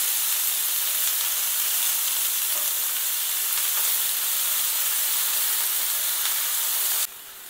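Broccoli sautéing in a pan over a low gas flame, a steady loud sizzle and hiss of frying that continues evenly before dropping off abruptly near the end, with no one speaking.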